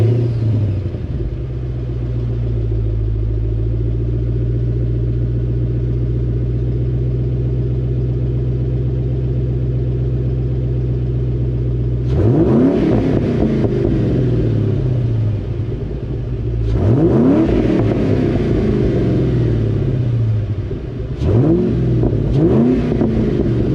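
A Ford Mustang GT 3-valve 4.6 V8 exhaust idles with a deep, lumpy rumble, then is revved sharply three times, each blip rising and falling back to idle.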